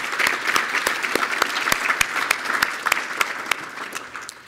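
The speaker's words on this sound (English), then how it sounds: "A round of applause for them." Sustained audience applause at an economic address in Surrey, a large crowd clapping steadily with sharp individual claps standing out close by, fading slightly toward the end.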